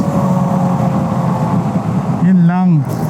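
Road traffic heard while riding a Bristol Venturi 500 motorcycle: a steady, close engine rumble runs throughout, and near the end a loud wavering tonal sweep, like a horn or revving engine, rises over it.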